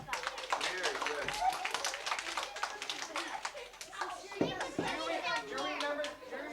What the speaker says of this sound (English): Let's clap for Cheery